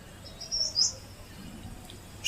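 Purple sunbird calling with a few thin, high chirps and a short trill, fairly close but soft against faint outdoor background, no talk.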